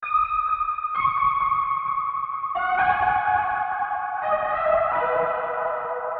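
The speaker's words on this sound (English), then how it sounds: "it's more background atmosphere sound" A sustained synth melody with soft, echoing tones steps slowly through a few held notes, creating a spacious background atmosphere.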